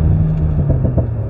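Alpine A110 S exhaust giving off a few crackling pops over a steady, close engine drone while the car is driven in manual mode through a corner.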